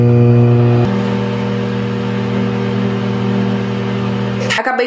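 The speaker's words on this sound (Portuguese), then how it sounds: "agora é só levar o micro-ondas por aproximadamente 3 minutos" A microwave oven hums loudly with a steady tonal drone, heating a stuffed cuscuz for about three minutes; the pitch shifts once early on, then holds before a brief clatter at the end.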